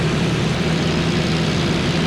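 A propeller airplane fitted with a variable-pitch rather than constant-speed prop, its engine droning loud and steady at close range with a low throbbing tone and no voices over it.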